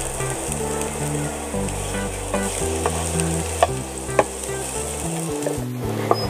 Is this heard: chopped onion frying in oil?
yes